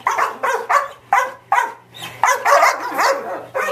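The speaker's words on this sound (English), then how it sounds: "They have to bark, it seems, at every new face." Dogs bark at a newcomer, a string of about eight loud, close barks with a few yips in an uneven rhythm, and there is no talking.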